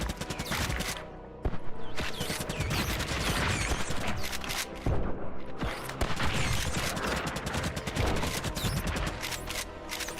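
Rapid bursts of gunfire from Blood Vial, an indie shooter, rattle on almost continuously at enemies, loud and dense with brief pauses between volleys.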